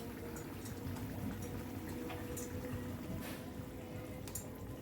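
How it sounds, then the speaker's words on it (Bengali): Egg omelette curry gravy bubbling in a pot, a faint, steady, dense simmering burble with occasional small pops, close and continuous throughout. "ঝোলটাকে এবার একটু ফুটতে দেব।"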